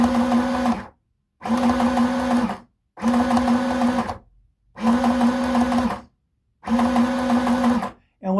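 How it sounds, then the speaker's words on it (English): A sewing machine stitches a red cotton skirt at a slow pace, five close, even bursts of whirring, each about a second long and separated by short silences. "notice how I sew slow"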